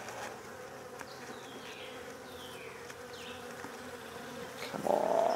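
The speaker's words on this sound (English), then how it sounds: "Come on, bees, quit biting me here." Honey bees buzz steadily around an open split hive during a queen check, a continuous close insect drone with individual bees whining past and a louder swell near the end.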